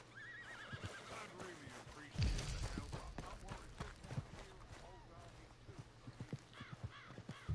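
Horse hooves clop unevenly amid whinnies and neighs in Red Dead Redemption 2, with people talking over the animal sounds and a loud thump partway through.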